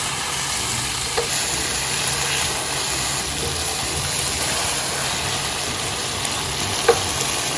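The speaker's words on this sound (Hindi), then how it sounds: "को 1 से 2 मिनट आपने भूनना है ताकि मसाले अच्छी तरह से चिकन में चले जाएं।" Chicken pieces fry with turmeric and chaat masala in a karahi, giving a steady, even sizzle over a low hum, broken by a couple of faint clinks, with no voices.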